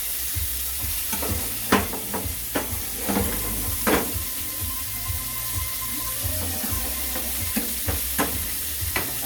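A steak sizzling in a pan with butter gives a steady, close hiss and crackle, broken by sharp pops and clatters of a utensil against the pan.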